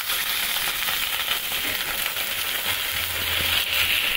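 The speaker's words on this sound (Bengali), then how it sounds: "একটু পানি দিয়ে দিচ্ছি" Water hits frying onions in a hot wok, producing a loud, continuous hiss and sizzle up close with light stirring scrapes and no talking.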